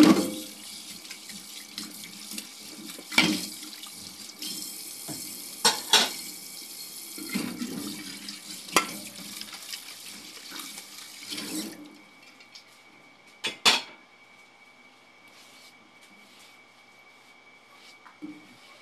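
Running tap water splashes into a sink with intermittent clinks of dishes and pots, then the water stops and only faint, sparse clatter remains.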